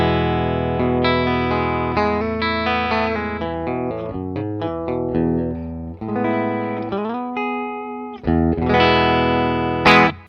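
A clean electric guitar tone through a Fender Deluxe Reverb amp, with chords and single notes ringing out loud and close, sustained with some shimmer, and no voices.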